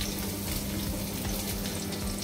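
Hot oil sputters and sizzles steadily as onion goes into a pan with curry leaves, a dense, continuous crackle heard close up with no voices.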